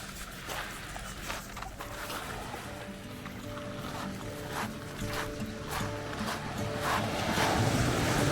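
Breezy wind buffets the microphone on a Dorset coastline walk near the beach, gusting steadily and growing stronger toward the end, with faint surf and distant voices underneath.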